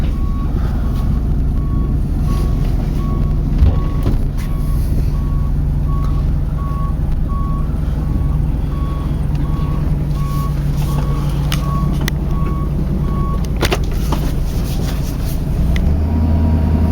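A truck reverses with steady, evenly spaced backup beeps over a continuous engine drone, loud and close throughout.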